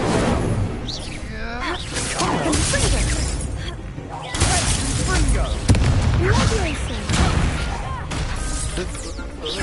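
Incendio fire spells are cast over and over in Hogwarts Legacy, a run of loud whooshing bursts and crackling impacts mixed with combat clashes and a shouting voice.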